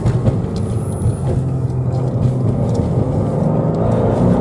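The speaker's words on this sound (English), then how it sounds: "I like the sound of it. It sounds good for an inline 6." A BMW M2 with an inline-six engine drives off road, giving a loud, steady low rumble mixed with bumpy noise from the rough ground.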